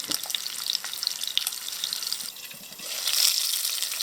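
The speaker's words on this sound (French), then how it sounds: "On va le laisser cuire comme ça. On va mettre un couvercle dessus." Chicken cooks in a covered pan, giving a soft, steady sizzle and crackle with scattered pops. A brief watery swell rises near the end.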